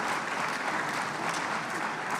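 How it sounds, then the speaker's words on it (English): Dense, steady applause from a large conference audience at the 3i Africa Summit greets the finalists, a continuous roar of clapping with no break. "A round of applause as they come"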